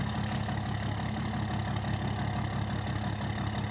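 An inline six-cylinder Cummins diesel engine idles in Farming Simulator 22, a steady, dense low rumble with a fine rapid pulsing throb that holds constant throughout.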